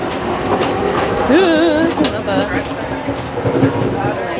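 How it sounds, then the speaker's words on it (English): An Amtrak train rattles and rumbles loudly from close by between carriages, with clacking wheels and a rising squeal, and a voice speaks briefly over the noise. "That is a moving train right there."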